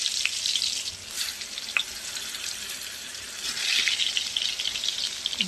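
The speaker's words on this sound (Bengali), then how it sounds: "এই দেখুন পটল ভাজা হচ্ছে।" Pointed gourd (potol) slices fry in a pan with a steady, faint hissing sizzle that swells and eases over several seconds, with no voices.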